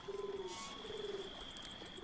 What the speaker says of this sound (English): I mean, there is a pigeon here.